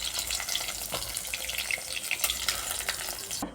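Prawn fritters fry in hot oil in a pan, a steady crackling sizzle with scattered pops and light stirring or scraping throughout.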